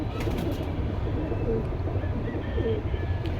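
Chuina breed pigeons coo in a crowded pen or market, with a continuous low, rumbling murmur of many birds and occasional faint chirps over steady background noise.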